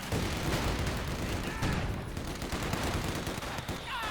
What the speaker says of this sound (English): they are taking a lot of fire here from nearby conscript squads